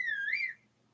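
A short, clear whistle from Zelda: Tears of the Kingdom, used to call a horse, rises and bends in a single tone for about half a second before cutting off into near silence.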